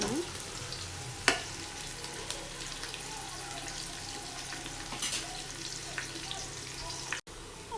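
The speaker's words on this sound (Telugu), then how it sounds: "గోల్డ్ కలర్ వచ్చేంత వరకు ఫ్రై అవ్వాలి ఆనియన్" Sliced onions with curry leaves fry in hot oil until golden, a steady sizzling hiss running throughout with a few brief spatula scrapes and light clinks.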